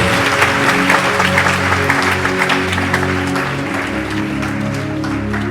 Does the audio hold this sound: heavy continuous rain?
no